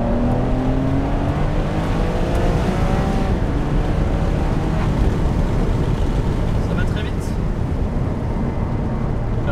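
Inside the cabin of a Ferrari 599 HGTE with exhaust valves held open, the engine makes a loud, continuous droning roar with rising and falling tones as it revs, while someone speaks over it.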